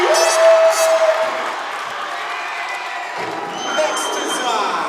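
A basketball crowd cheers after an alley-oop at a varsity game, the cheering loud at first and then fading under steady commentary.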